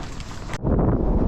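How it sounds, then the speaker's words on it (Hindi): Strong wind gusts roar across a microphone at Tilanti on a winter mountain trek in India, a steady rushing buffet that swells suddenly louder and fills the sound. "इतनी भयंकर हवा चल रही है ना"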